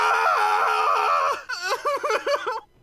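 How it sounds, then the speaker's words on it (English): Video game character screaming wordlessly, a long loud anguished wail followed by a string of choppy, sobbing cries, close and unaccompanied by talk. "Screams of endless suffering."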